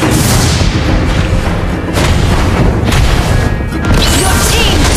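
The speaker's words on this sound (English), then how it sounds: "Your team destroyed a turret." Mobile Legends turret destruction: dense booming blasts and crashing impacts fill the scene continuously, loud and close, amid game sound effects.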